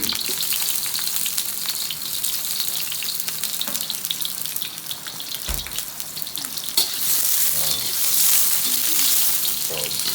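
Food sizzles and crackles steadily in a hot pan, with occasional clinks and stirring sounds, growing louder toward the end.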